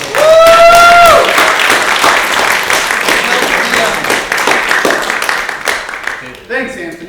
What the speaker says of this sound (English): give a round of applause for our DM.